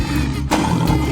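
Lion roaring in a 3D animal video game, a loud sustained growling roar with a brief break midway, close and dominant over game sounds.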